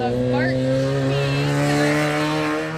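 A 1600-class Baja Bug race buggy with an air-cooled VW engine launches off the start line at an off-road desert race, its engine revving loud and close with rising harmonic tones, while an announcer speaks over it.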